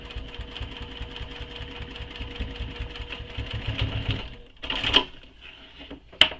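A sewing machine runs a second row of stitching along a quiver sling, a steady rapid mechanical chatter close by for about four seconds, then stopping with a couple of sharp clicks and handling noises.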